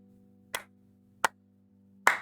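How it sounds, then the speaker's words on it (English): Three sharp hand claps, unevenly spaced, with short pauses between them over a faint steady hum. "Is it just my thing where I clap in my patch note videos?"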